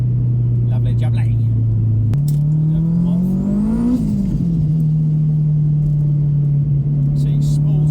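Turbocharged Honda Civic engine held at a steady drone, then revving briefly with a rising whine as the turbo spools and settling again, loud and close, with a voice talking over it.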